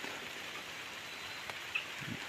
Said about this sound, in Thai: ฝนได้ตก